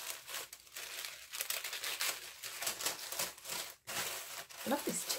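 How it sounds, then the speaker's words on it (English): Tissue paper being ripped and crumpled by hand during a gift unwrapping, giving close, bursty crinkling and tearing rustles that come and go, with a brief pause near the end. "I'm being bad now, ripping the tissue."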